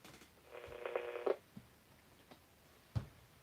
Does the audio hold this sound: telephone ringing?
yes